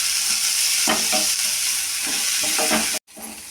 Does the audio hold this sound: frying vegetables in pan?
yes